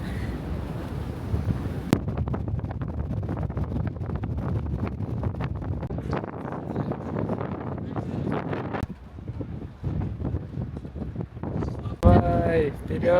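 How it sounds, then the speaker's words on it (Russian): Strong wind buffets the microphone on a cruise ship deck, a loud continuous roar that sweeps and gusts for the whole stretch, with a voice briefly breaking through near the end. "Мне еще ни разу не избивал ветер по щекам."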